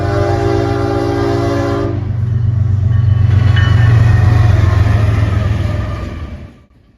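A loud westbound freight train led by two BNSF locomotives rumbles past close by, its horn blaring in sustained blasts for the first two seconds, then heavy rolling noise fading out at the end.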